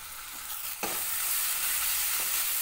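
Curry leaves hit hot oil in a pan while moong dal is being cooked, setting off a sudden loud sizzle that then settles into a steady, close crackling fry with no voices.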